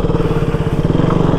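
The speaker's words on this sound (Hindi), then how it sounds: "बाइक बहुत मुश्किल से चला पा रहा हूँ यार" A motorcycle rumbles steadily and close by as it is ridden, with a throbbing low engine note that holds throughout and no rise or fall.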